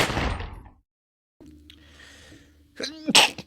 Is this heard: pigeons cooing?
no